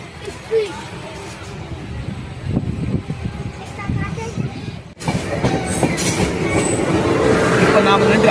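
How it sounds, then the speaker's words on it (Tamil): The Coimbatore–Mayiladuthurai Jan Shatabdi express passes a station platform at Aduthurai with a sustained rumble and rattle of rolling wheels that swells louder partway through, while people talk nearby. "இது வந்து கோயம்புத்தூர் மயிலாடுதுறை ஜன்சதாப்தி விரைவு ரயில்."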